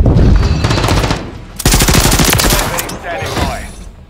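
Call of Duty MW3 gunfire roars up close in loud, rapid machine-gun bursts with short gaps between them, and faint game voices sit underneath.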